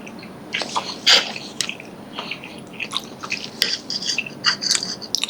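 Someone bites into and chews a juicy, soft pork steak, giving wet squishy mouth sounds and occasional sharp crunchy bites in an irregular rhythm, close to the ear and with no talk.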